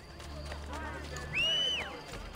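Horse hoofbeats from Assassin's Creed Brotherhood, soft clip-clop under game sounds with a rising tonal whoosh near the middle; a voice talks over it.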